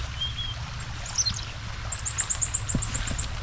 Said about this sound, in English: And we have chickadees back.